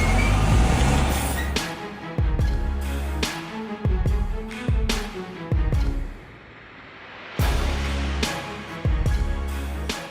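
Heavily loaded wood truck reversing, with a loud, steady pattern of repeated backup beeps over rumbling engine noise. The beeps pause briefly, then resume near the end.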